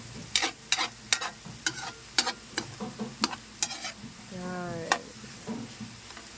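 Ampalaya (bitter melon) and eggs frying in a pan, with a soft steady sizzle under repeated sharp scraping and stirring strokes of a utensil against the pan in an uneven rhythm, close by.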